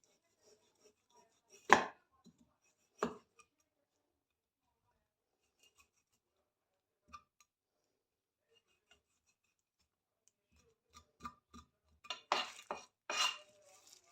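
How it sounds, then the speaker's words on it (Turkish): A knife works at a cow's foot being prepared for paça soup, giving a few sharp, isolated cuts and knocks on a board early on, then a quick cluster of scraping, chopping hits near the end, with long quiet gaps. "Burayı da bıçak yardımıyla alıyoruz."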